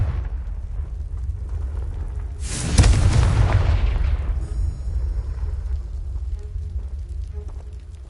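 The Confringo spell in Hogwarts Legacy blasting a pile of debris: one loud, sudden explosion rises out of a low rumbling background, then the debris crumbles and the noise fades slowly.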